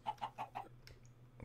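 Minecraft chickens cluck in a quick burst of four short calls, followed by a few softer clicks against a low steady hum, with no voices.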